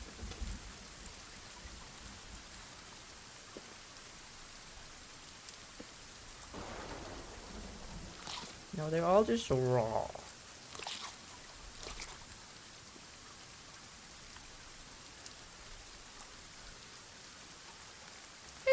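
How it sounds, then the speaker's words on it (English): Rain in the video game Sons of the Forest, a steady soft hiss of rainfall with distant rumbles of thunder, and a brief voice speaking once over it. "It's raining!"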